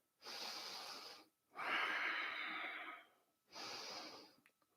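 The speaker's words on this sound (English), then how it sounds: "A few breaths here." Three long, loud breaths taken close to the microphone during a kundalini yoga pose, each a breathy rush with a brief pause between.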